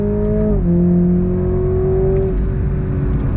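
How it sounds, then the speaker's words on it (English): The 2.0-litre engine of a 2022 Toyota Supra in sport mode drones loud and close as the car pulls hard off the line, its pitch dipping at a quick shift and then climbing steadily. "On throttle, here we go. Initial thrust off the line is pretty good"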